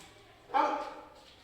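A single short dog bark, moderately near and fairly faint, rising sharply and trailing off in under a second against a quiet indoor background.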